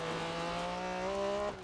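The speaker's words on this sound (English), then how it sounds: "It's got that kind of burbling exhaust noise rather than the more aggressive turbos." MG Metro 6R4 Group B rally car with a naturally aspirated V6, its exhaust giving a steady, loud, burbling engine drone that holds an even pitch, rises slightly and then drops off near the end.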